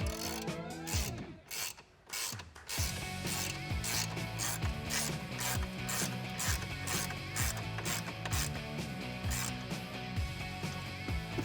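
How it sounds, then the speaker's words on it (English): A ratchet with a 13mm socket tightens a bolt on a K&N Series 69 Typhoon cold air intake in a 3.6L Dodge Challenger, giving steady, rapid close-up clicking that runs almost continuously with only a brief pause near the start. "Then with a 13mm socket, tighten it down."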